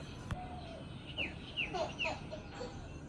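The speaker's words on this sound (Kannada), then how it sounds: "ಬಾಲ್ಕನಿ ಮತ್ತು ಯುಟಿಲಿಟಿ ಕಿಚನ್‌ಗೆ ಮತ್ತು ರೂಮ್‌ಗೆ ಎಲ್ಲ ತುಂಬ ಚೆನ್ನಾಗಿ ಬರ್ಡ್ ಸೌಂಡ್ ಎಲ್ಲ ಕೇಳ್ತಾ ಇರುತ್ತೆ" Chickens cluck and chirping birds call in short bursts outdoors from a balcony, fairly faint against a soft background hum.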